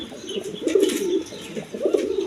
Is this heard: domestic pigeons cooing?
yes